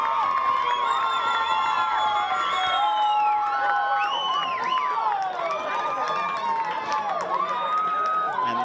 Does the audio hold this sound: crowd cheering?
yes